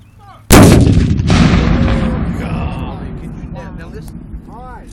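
A single loud Civil War artillery cannon blast booms out close by at a reenactment, its roar slowly decaying over several seconds while faint voices murmur in the background.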